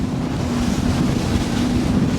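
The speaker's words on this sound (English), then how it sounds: "I'll leave you a bit of shot here of the boat going along." An Axopar motor boat cruises through sea spray along the English coast, a loud steady rush of wind and water with a low engine hum underneath and no talk.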